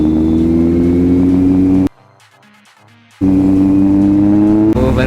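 A Kawasaki Z900 motorcycle engine rumbles loudly nearby, cuts abruptly to near silence for about a second, then roars back at full strength, with a short sharp burst near the end.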